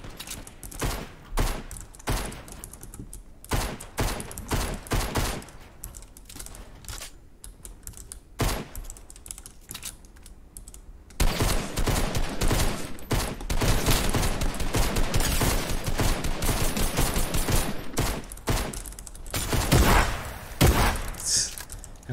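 Rapid bursts of gunfire in the Fortnite Battle Royale video game, a dense stream of sharp shots that gets louder and more continuous in the second half.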